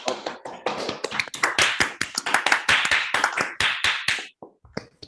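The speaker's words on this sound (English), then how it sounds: "maybe a small clapping phase before the discussion phase" A small seminar audience claps after a long mathematics talk, the claps dense and close, then thinning out into a few scattered last claps.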